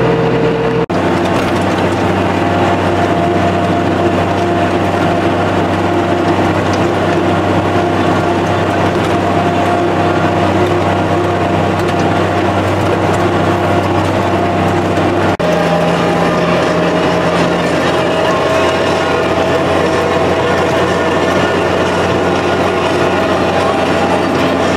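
A tractor pulling a do-all field leveler rumbles steadily and loudly for a long stretch, a constant droning engine with rattling implement noise and a brief shift in tone midway.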